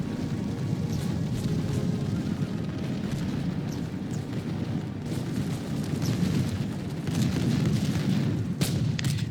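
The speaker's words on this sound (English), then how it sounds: "they are firing again at the approaching enemy" Musket and artillery volleys in a 17th-century strategy battle during a siege, a continuous dense rumble of distant booms and crackling shots rolling on without pause, loud throughout with no voices.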